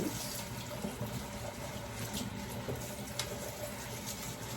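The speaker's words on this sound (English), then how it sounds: "So I'm gonna turn on some cold water." Steady broadband rush of cold water pouring from a kitchen tap, continuous and fairly close, with a brief spoken exclamation over it.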